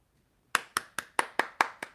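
Seven sharp hand claps in a steady, even rhythm, close and crisp against an otherwise silent background.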